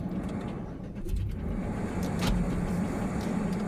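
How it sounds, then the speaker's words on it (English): A car engine runs steadily after being started, a low continuous rumble heard from inside the vehicle on Pennsylvania back roads, with no talking. "Oh, I had to turn the car on."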